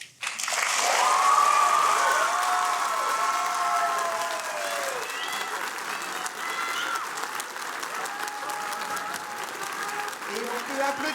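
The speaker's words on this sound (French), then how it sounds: "on peut applaudir bien fort le groupe numéro 4" Audience applause at an evening student theatre show, a full burst of clapping that swells quickly and continues steadily for several seconds, with some cheering and an amplified voice speaking over it.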